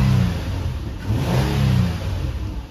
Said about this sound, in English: Engine sounds very healthy,